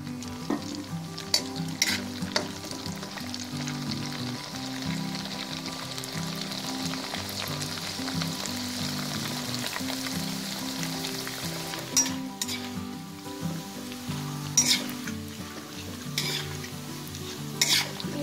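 Vegetarian crackers deep-frying in hot oil give a steady, close crackling sizzle with dense popping throughout, a few sharper bursts standing out near the middle and end.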